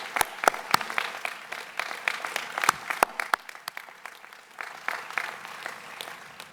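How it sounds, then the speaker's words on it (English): Audience at the Beacom grand opening gives a round of applause, sparse sharp claps scattered over a softer crowd wash, moderately distant. "Once again, a round of applause."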